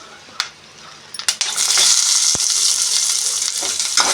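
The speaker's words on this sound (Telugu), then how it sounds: "జాజి పువ్వు, దాల్చిన చెక్క, లవంగాలు, ఇవి కొంచెం వేగించుకోవాలి" Mace, cinnamon and cloves frying in a pan, starting with a few clinks and then a steady loud sizzle that holds for several seconds, with no talking over it.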